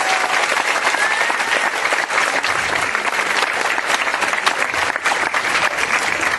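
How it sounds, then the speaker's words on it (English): Sustained audience applause at an elementary school fifth grade promotion ceremony, a dense, steady wash of many hands clapping throughout without pause. "So let's give her one more round of applause."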